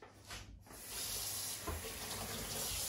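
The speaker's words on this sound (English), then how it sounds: "So first thing I'm going to do is wash my hands" Tap water runs into a sink for handwashing, a steady close hiss and splash that starts softly and then settles into a fuller, constant flow.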